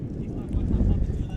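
Wind buffets the microphone at an outdoor college soccer game on a sunny, windy day in Cornwall, PEI, a low, steady rumbling roar for a moment.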